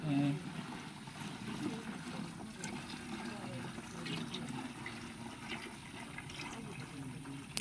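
Water pours steadily into a tank on a goat farm, a continuous low rushing wash that is fairly faint, with people talking over it.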